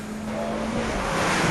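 A Vauxhall Corsa VXR hot hatch drives on a track, its engine giving a steady, loud drone with a faint tonal whine and no voices.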